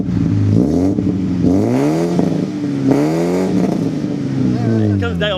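A car with a 2.0 engine revs hard several times in quick succession, the loud exhaust rising and falling close by, with a little backfire crackle at the end.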